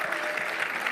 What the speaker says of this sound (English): How about another round of applause for our keynote speaker, Keely Cat-Wells?